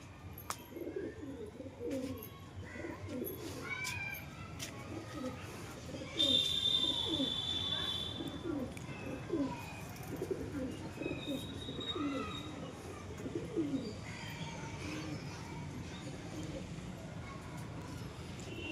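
Pigeons on a rooftop coo repeatedly in soft, rolling bursts, joined by occasional chirps and a brief whistle-like tone, with someone talking intermittently nearby.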